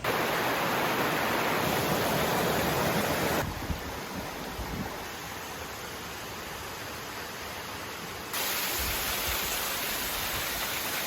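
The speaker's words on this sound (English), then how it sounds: "Made it to the top of hike number 1. Got this crazy waterfall." A waterfall on a hiking trail in Panama roars as a loud, steady broadband rush of falling water, close and continuous, with a few shifts in level and no voices.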